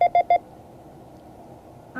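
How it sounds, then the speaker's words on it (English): Morse code letter H keyed as short, clear tone beeps. Three evenly spaced dits sound close and alone, then a faint background hum carries on afterward. "this is the sound of an H"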